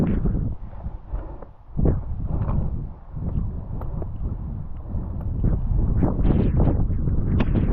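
Strong wind on an exposed New Hampshire mountain on the Appalachian Trail: loud, gusting roar buffeting close against the microphone without pause, swelling stronger toward the end.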